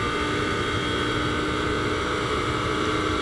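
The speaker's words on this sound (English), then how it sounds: "That's an aspirated engine, not a turbocharged engine. I have to say, it's got to be a 458 Ferrari." A Ferrari 458 naturally aspirated V8 race car at a 24-hour endurance race at Spa drones continuously, a steady distant engine roar under broadcast noise with no talk.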